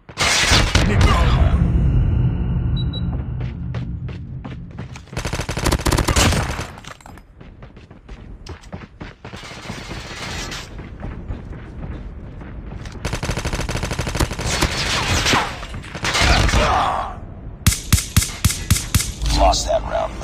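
Gunfire in a Call of Duty gunfight: loud bursts of automatic fire and single shots in repeated clusters, with a rapid volley near the end and game voices between the shots.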